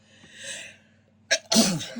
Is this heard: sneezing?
yes